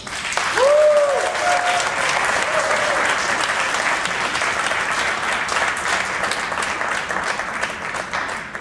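Audience applause greets jazz speaker Dr. Nelson Harrison at a Pittsburgh jazz talk, a steady wash of many hands clapping that holds evenly throughout, with a brief voice heard near the start.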